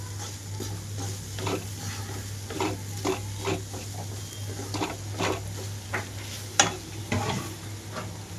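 Green chillies stir-frying in a pan with ivy gourd, a soft steady sizzle under repeated scraping and stirring strokes, close and moderately quiet, with no talking.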